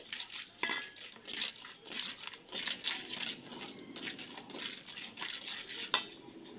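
A spoon scrapes and stirs raw jackfruit pickle with spices in a pan, making repeated close scraping strokes and metallic clinks in an uneven rhythm with a faint sizzle underneath.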